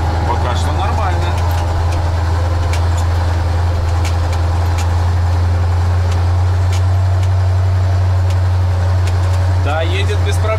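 A driverless KrAZ 255 truck driving in a higher gear, a loud, steady low diesel engine drone throughout with occasional clicks and faint rattles, close by.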